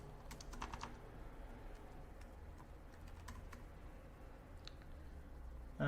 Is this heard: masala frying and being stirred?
no